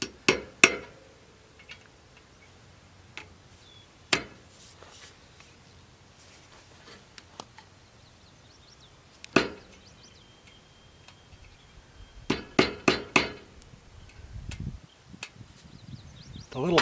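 Sharp metallic taps of a hammer on a nail held in a grease fitting ring out in scattered single hits and short rapid bursts, with quiet pauses between them.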